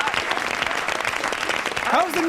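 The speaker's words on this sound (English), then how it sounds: "I don't think you should be clapping." Studio audience clapping on a comedy talk show, a dense burst of applause that carries through to the end, with a voice coming in near the close.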